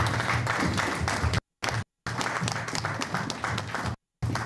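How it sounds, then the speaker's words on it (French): Church congregation applauding together in steady, dense clapping with a low murmur of voices, broken by several abrupt brief dropouts of silence. "Acclamons encore la parole."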